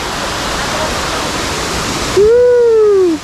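A waterfall at a beach in Lila, Bohol gives a steady, loud rushing wash of falling water, with a voice briefly calling out over it toward the end.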